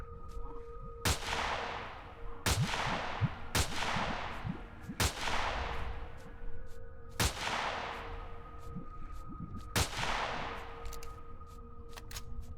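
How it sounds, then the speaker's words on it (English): Sniper rifle gunfire in the game Empyrion Galactic Survival: about seven sharp, loud single shots, each with a ringing echoing tail, spaced a second or two apart over a low ambient hum. "maybe it's time to break out the sniper rifle"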